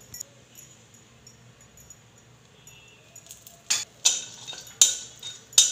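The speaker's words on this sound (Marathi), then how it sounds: "आता अक्रोड आपण थोड्याशा तुपामध्ये भाजून घेऊया।" Walnuts roasting in a little ghee in a pan while being stirred give a few sharp scraping clinks near the end, after a long stretch of faint background hum.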